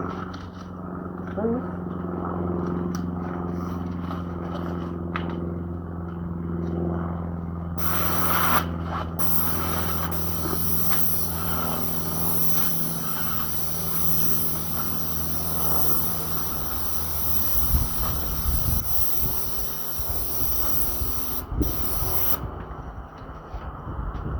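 An airless paint sprayer lays a quick second coat on doors in place, a steady broadband hiss with pressure surges that runs nearly the whole time and grows rougher and louder toward the end.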